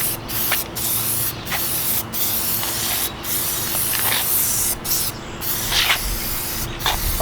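Aerosol Plasti Dip sprays onto Mazda 3 trim in repeated close hissing bursts of a second or so, separated by brief pauses in a rough rhythm, loud over a faint background hum with no speech.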